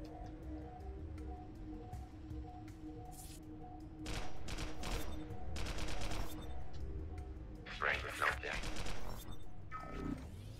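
Bursts of weapons fire in the video game Global Agenda: rapid clusters of sharp shots arrive in uneven volleys over a steady humming game background, with an electronic whine and squeal near the end.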